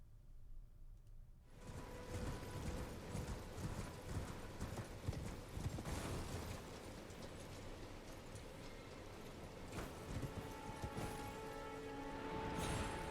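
A horse gallops across open terrain in the video game Elden Ring, its hoofbeats a steady, close clip-clop that runs the whole time over a continuous game ambience and music, with no talk.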